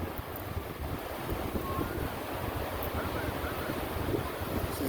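Ocean surf and steady wind at a beach near a sand dune, a continuous broad roar with rumbling wave wash and gusty wind buffeting the microphone throughout, no voices.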